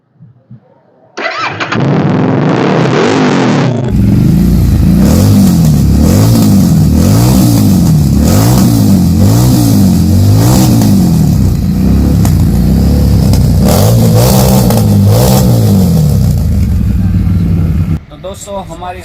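Harley-Davidson Street 750 motorcycle exhaust starts up, then revs repeatedly with rising and falling throttle blips in a loud, close, rumbling run before cutting off near the end.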